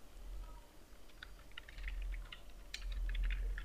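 Fast, light clicking of keys on a computer keyboard as a form name is typed, a quick irregular patter over faint room hum.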